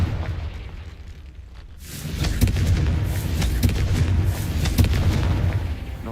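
Spell blasts erupt in the Hogwarts Legacy video game, a quiet lull giving way around two seconds in to a dense, sustained barrage of booming explosions and sharp bursts that continue loudly to the end.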